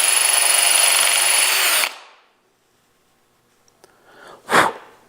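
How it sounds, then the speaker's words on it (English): A power drill bores through a wooden pen blank to its tube, whining loud and steady for almost two seconds before spinning down to silence, followed by a brief sharp noise. "I'm just going to keep drilling until I hit the pen blank,"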